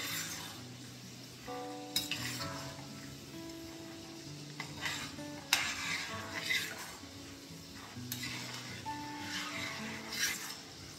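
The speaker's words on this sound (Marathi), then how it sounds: "आता आपल्याला हे शेंगदाणे छान तळून घ्यायचे आहेत।" Peanuts frying in oil for poha chivda, a steady soft sizzle with occasional stirring scrapes and clinks of a spoon against the pan, alongside faint background tones.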